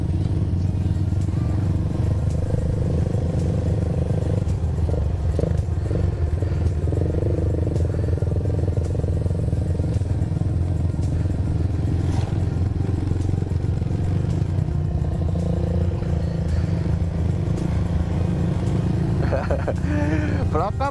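A motorcycle engine labours and revs on loose sand at Bromo, a continuous close rumble running the whole time beneath ongoing conversation.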